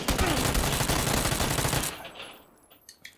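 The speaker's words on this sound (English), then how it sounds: "Wait, hear the shots." Rapid automatic gunfire in the video game PUBG on Xbox, a loud dense burst of shots lasting about two seconds before cutting off, leaving a faint tail and a few quiet clicks.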